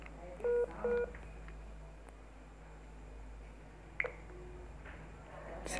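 Two clear telephone keypad tones as a call is dialed, short beeps near the start, followed by faint clicks and low background hiss.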